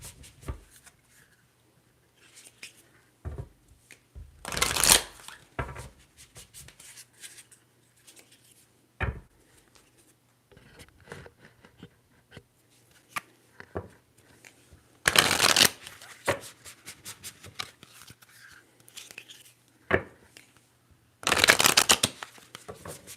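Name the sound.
shuffling a Moonology tarot card deck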